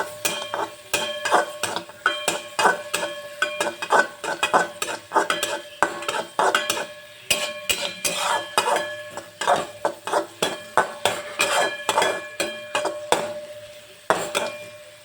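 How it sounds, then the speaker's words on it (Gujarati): Chopped onion cooking in a kadai while a metal spoon stirs it, producing loud, rapid, repeated scraping and clinking against the pan over a faint sizzle, continuous with no voices. "હવે ડુંગળીને આપણે ગોલ્ડન બ્રાઉન સુધી કૂક કરી લઈશું"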